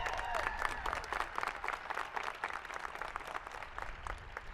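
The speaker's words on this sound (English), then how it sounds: "Go ahead, you can clap." An audience at a Cochise College nursing recognition ceremony applauds warmly for an alumna of the first nursing class, a sustained, even wash of many hands clapping at a moderate distance.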